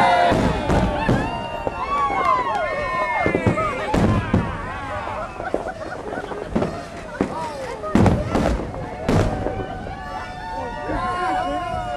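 New Year's Eve fireworks boom and crackle in repeated sharp bursts throughout, some loud and close, with crowd chatter and cheering mixed underneath.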